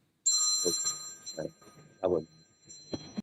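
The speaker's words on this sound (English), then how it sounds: "Let me find my phone so I can make it stop." A telephone rings in repeated bursts, loud and close, with short gaps between rings and a steady high tone running underneath.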